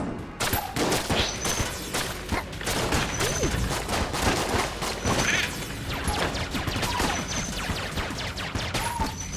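The Gungeon gun firing in the video game Enter the Gungeon: a rapid, sustained stream of loud shots and impacts with small chiming pickup tones on top, dense and continuous throughout.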